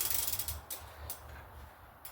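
A BMX bicycle's freewheel ratchet clicks in a fast, even run of close pawl ticks as the pedals turn backwards, then slows into a few scattered clicks, heard up close with no talking.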